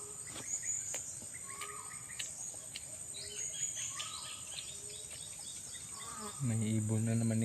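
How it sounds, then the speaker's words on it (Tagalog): Bird calls chirp repeatedly outdoors among insect and cricket-like buzzing, with a steady hum underneath; a louder tonal sound enters near the end. "May ibon na naman ni Bayawak tol"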